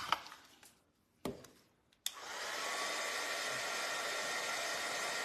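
A handheld dryer blows steadily on painted craft flowers after a few brief knocks and clicks, its loud, close, even whoosh starting abruptly and running without a break.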